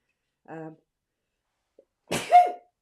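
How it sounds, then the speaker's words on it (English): A short voiced sound, then a sharp, loud sneeze close by, bursting out and trailing off with a vocal tone. "I'm going to sneeze in a minute."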